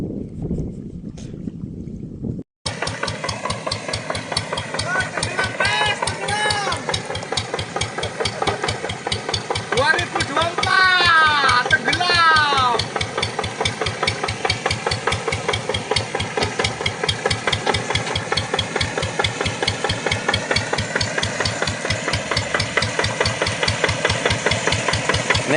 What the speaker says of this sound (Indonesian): Nih dalamnya mesin hampir tenggelam.